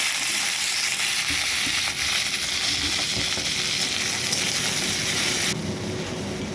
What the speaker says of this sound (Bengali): কড়াইয়ের মধ্যে সামান্য তেল দিয়ে ক্যাপসিকামগুলোকে দিয়ে দেবো